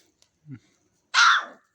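A single short bark rings out close by after a soft low grunt, then quiet.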